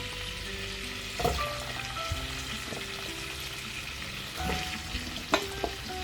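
Pumpkin pieces fry in hot oil in a pan for a Bengali shrimp and Malabar spinach dish, with a steady close sizzle broken by a few sharp knocks and scrapes of stirring.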